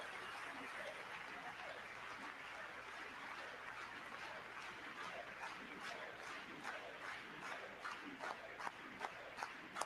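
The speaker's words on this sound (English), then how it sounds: "They're standing and clapping." A large audience cheers and claps, with a roar of voices carrying throughout and distinct sharp handclaps growing louder and more rhythmic toward the end.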